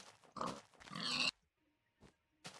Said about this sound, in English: Oh, pigs. Come over here.